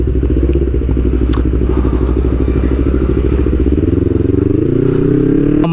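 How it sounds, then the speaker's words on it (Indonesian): A Yamaha YZF-R25 two-cylinder motorcycle, stock apart from an aftermarket exhaust, runs loud and close with a steady, throbbing burble. The pitch climbs near the end as the engine revs up. "Ini untuk suaranya teman-teman, seperti biasa suara 2 silinder ya, pasti enak banget."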